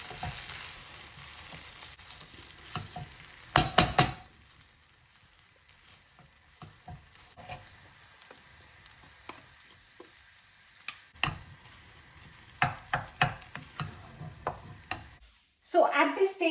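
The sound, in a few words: mashing dabeli masala in a pan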